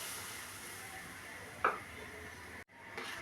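Spice paste hissing and sizzling among fried onions in a hot pan, a low steady fry with one sharp clink of a utensil midway and a brief drop before the sizzle resumes.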